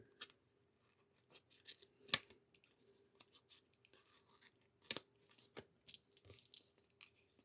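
Scissors snip away excess paper while trimming a die-cut glossy sticker, giving a few quiet, scattered cuts with crisp paper crinkles between them and no voices.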